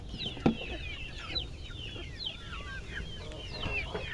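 Hens in a backyard coop at egg-collecting time, with several birds trading short, moderately close clucks and chirps over a steady low rumble of outdoor background noise.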